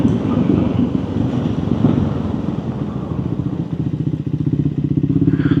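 A Triumph Scrambler 400X motorcycle being ridden, its engine droning steadily at close range with a brief dip and a sharper pulsing rhythm near the end as it moves through the gears, wind rushing over the microphone throughout.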